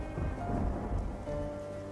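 Steady rain with a low rumble of thunder in cold weather, a continuous close wash of sound with no voices.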